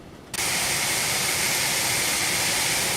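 Phenom 300 private jet engines heard from an outside view in the X-Plane 11 flight simulator, a loud, steady roaring whine that cuts in abruptly after a quieter moment and holds constant.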